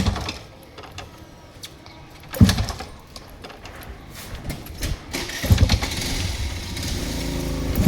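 Yamaha RX 135 motorcycle being kick-started repeatedly, with faint mechanical clatter and thuds from the kicks, then sputtering engine bursts that build toward a rough, rising two-stroke run near the end.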